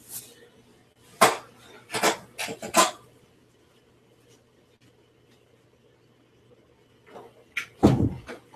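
An indoor door is pushed shut late at night, giving a few close knocks and thuds early on and another sharp bang near the end, with quiet between.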